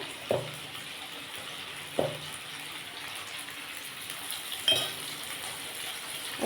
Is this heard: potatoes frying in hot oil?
yes